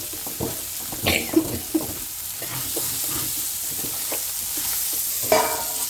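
Chicken fry with onion masala crackles and sizzles in a pan, with a soft continuous hiss broken by a few louder stirring scrapes and clinks, close up and without talk.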